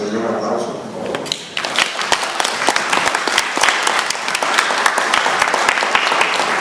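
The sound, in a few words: applause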